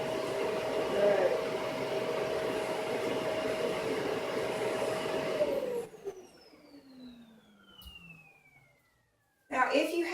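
Vacuum cleaner running loudly near a dog, a steady close roar that winds down after a few seconds into a falling whine, then a brief silence before the motor starts up again.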